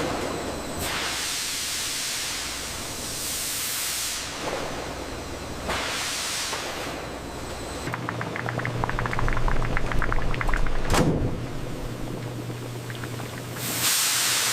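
Steam hisses through the cooking section of a Korean fish cake factory as fish cake sheets are cooked. Broad, continuous rushing bursts rise and fade in long waves, with machinery rattle and a sharp hiss near the end.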